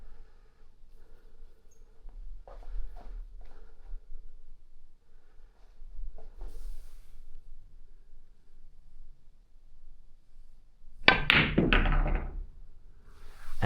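A pool cue strikes the cue ball in a billiards shot, a sharp close click followed by balls knocking and rolling, preceded by faint quiet taps and room ambience.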